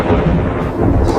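Deep rolling thunder rumbles steadily for about a second, loud and close, with no voices over it.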